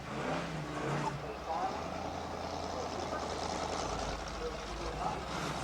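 At the 1990 ANDRA drag racing Winternationals, a Pontiac drag car with a 455-cubic-inch Super Duty engine rumbles and revs loudly and steadily, with commentary heard over the racket.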